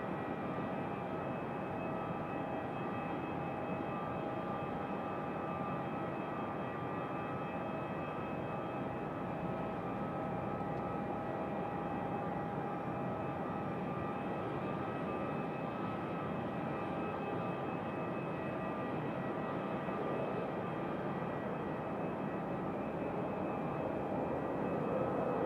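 A Republic Airways regional jet arriving from Washington Dulles at Raleigh-Durham gives a steady, distant engine roar with faint whining tones, unchanging and unbroken for about twenty-five seconds, with no voices.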